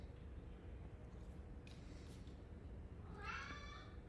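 A cat wanting to go out gives a faint meow near the end, with a couple of soft clicks earlier, over steady background hiss.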